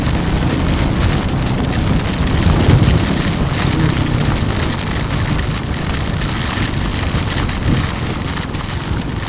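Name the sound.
heavy rain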